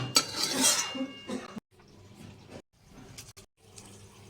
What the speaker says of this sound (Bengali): এবার কড়াইটাও আবার বসিয়ে দিলাম